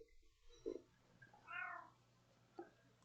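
A cat meows a few times close by, one drawn-out call between shorter chirps, in an otherwise quiet room.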